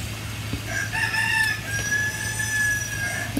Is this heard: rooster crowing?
yes